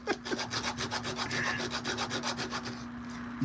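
A ring rubbed back and forth on sandpaper, giving quick rhythmic rasping strokes of about five per second, close and fairly quiet, fading out near the end.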